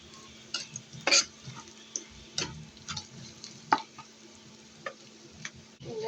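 Onions fry in oil for jute leaf greens with a soft, low sizzle and scattered sharp clicks of a spoon stirring against the pan.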